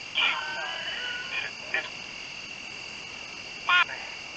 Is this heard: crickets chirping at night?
yes